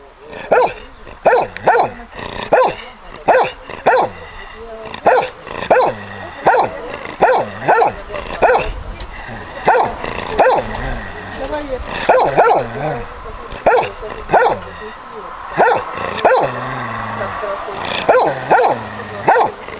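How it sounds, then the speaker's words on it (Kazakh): A dog barks over and over in sharp, even bursts for the whole stretch, loud and close, with a few yips and whimpers mixed in. "Ит."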